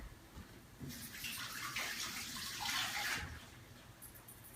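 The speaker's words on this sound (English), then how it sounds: "I'm just going to go wash my hands real quick." Tap water running as hands are washed at a sink, a faint rushing splash that swells for a couple of seconds then fades, with no talking.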